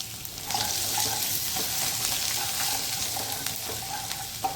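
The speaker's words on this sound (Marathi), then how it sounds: "लस हिंग आणि लसूण तर आता व्यवस्थित आपण परतून घेऊया" Asafoetida, cumin and garlic sizzling in hot oil for a potato-spinach dish, a loud steady frying hiss with faint stirring clinks, close by and without talk.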